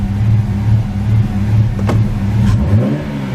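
A Toyota Supra MKIV engine idles steadily up close with a low, even hum that dips slightly as the idle settles toward the end.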